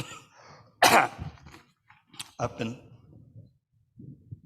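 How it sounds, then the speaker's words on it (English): A single sharp cough bursts out during a church sermon, loud and close, followed by the preacher's calm speech continuing around it. "My cough comes too fast for me to catch it"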